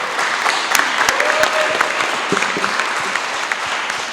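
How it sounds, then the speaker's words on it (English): Applause from an audience at a high school student debate, a steady wash of clapping with scattered sharp claps lasting the whole stretch, moderately loud and heard alone without talk. "if we can avoid clapping till the very end, we'd appreciate it"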